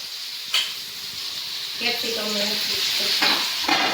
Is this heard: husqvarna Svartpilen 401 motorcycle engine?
no